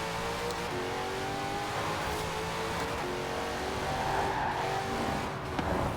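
A car in Forza Horizon 4 launches from a roll race, its engine revving hard and climbing through rising tones over six seconds, loud and continuous with no talking.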